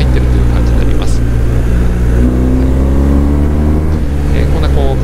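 A 2021 BMW R1250GS motorcycle descends a winding road, its engine droning loud and steady with shifting pitch as it speeds up and slows, and someone talks over it.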